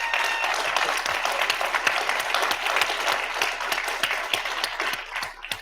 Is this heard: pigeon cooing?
no